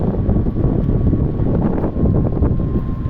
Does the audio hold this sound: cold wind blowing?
yes